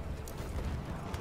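Horse hooves clip-clop in a multiplayer battle video game, a steady, fairly faint trotting rhythm under a dense wash of background game noise.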